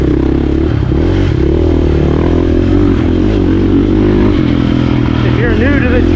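A dirt bike engine roars loud and close while riding, a continuous rough drone with rising and falling revs and rattles. A voice talks over it.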